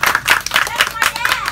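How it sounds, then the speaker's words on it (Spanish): Children clap at a birthday party, a quick run of uneven, close-up hand claps with a lively group feel, briefly filling the room before a host resumes introductions. "Aplauso para Giovanni"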